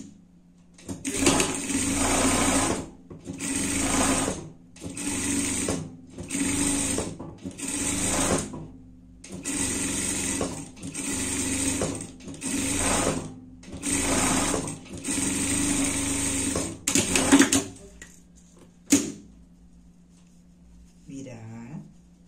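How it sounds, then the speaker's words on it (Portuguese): A sewing machine stitches a seam on small pet clothing, running in about ten short, buzzing bursts with brief pauses between them, close and clear, then stopping near the end with a few light handling noises. "Passar uma costura por tudo aqui."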